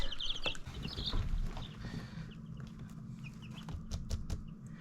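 Young chickens in an indoor brooder with hay bedding give soft, scattered chirps and clucks close by over a steady low hum, with a few brighter peeps near the start and sharp taps later on.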